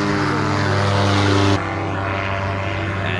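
Paramotor engine and propeller at full throttle during a first training flight, a loud steady droning roar with strong harmonic hum that drops abruptly to a lower, rougher steady drone about halfway through.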